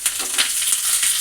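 Curry leaves crackle and sizzle as they hit hot oil with cumin and dried red chillies, a loud close tempering for a Telugu cucumber chutney, bursts of spitting over a steady fry.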